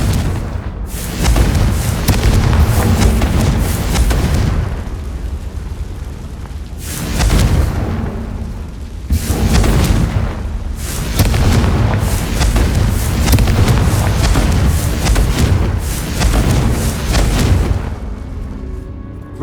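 Repeated booming blasts of the Confringo fire spell erupt in Hogwarts Legacy combat, loud, heavy explosions arriving in quick succession with short gaps between them.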